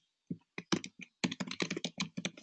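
Fast keystrokes on a computer keyboard at close range, an irregular run of quick clicks with brief pauses, entering information into a quote form.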